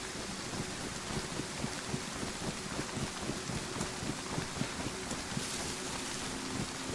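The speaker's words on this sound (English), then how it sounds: "I've got full on rain sounds." Steady rain falling in the survival video game DayZ, a continuous, even hiss with soft scattered patter throughout, moderately quiet and with no voices over it.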